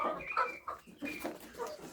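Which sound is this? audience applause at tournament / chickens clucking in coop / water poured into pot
chickens clucking in coop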